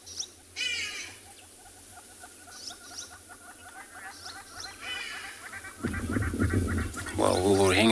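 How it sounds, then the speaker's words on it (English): Hadeda ibis calling in the distance at sunrise on a safari reserve with wild dogs nearby, repeated honking cries over quiet ambience before louder, closer noise rises near the end. "But what you hear down there, it's actually a bird, ibis."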